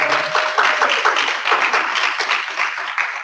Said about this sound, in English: Another round of applause for Mr. William.